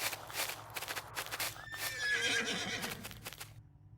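A horse in a village-life video game whinnies loudly and rears up, a long shrill neigh with hoof clatter and a steady hum underneath, no talking.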